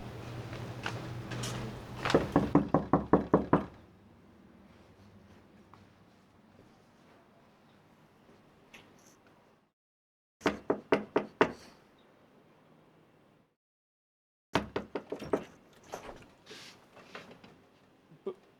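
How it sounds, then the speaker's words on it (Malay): Knuckles rapping on a door in several sharp bursts of four to five knocks, separated by quiet pauses, close and clear with faint creaks between. "Sekejap, saya cuba ketuk pintu."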